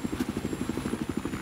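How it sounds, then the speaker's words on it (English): A helicopter in Battlefield 4 thumps with rapid, regular rotor beats over a steady engine whine, close and continuous. "Alright, I'm in your helicopter"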